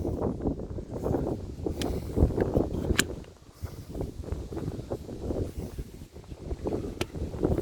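Gusty wind buffets the microphone with low rumbling rushes, rising and falling throughout, loud and close.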